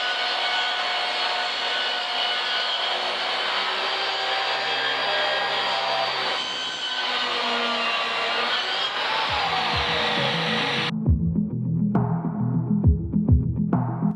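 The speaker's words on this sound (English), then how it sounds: "the saw just eats all the stainless it encounters. All you notice is that the RPM drops a bit" A power saw cuts through stainless steel on a yacht, running loud and steady with a broad, whining roar for about eleven seconds, then cutting out abruptly, leaving lower knocking and rumbling sounds.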